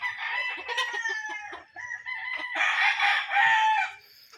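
Roosters crowing loudly and close among chickens, two long drawn-out crows in quick succession with clucking fowl around, no talk.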